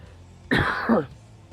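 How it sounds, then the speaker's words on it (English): A single harsh cough from an itchy throat, a sharp close burst followed by a rasping throat-clearing tail, alone against a quiet room. "I have an itch in my throat. I cannot get it out, so I'm coughing a bit."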